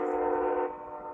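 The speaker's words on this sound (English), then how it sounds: "The train's sort of a nice vibe." A passing train's horn blares in a steady sustained tone, moderately loud and somewhat distant, then fades into a lower rumble.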